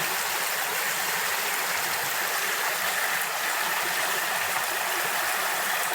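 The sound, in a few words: clear mountain stream flowing on Tsushima island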